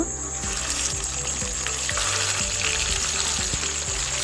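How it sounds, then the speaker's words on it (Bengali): Rohu fish pieces fry in mustard oil in a kadai, giving a steady, close sizzling hiss with a few light clicks and taps over the bubbling. "কড়াইয়ের মধ্যে দিয়ে দিলাম সর্ষের তেল এবার মাছগুলোকে ভেজে নেব"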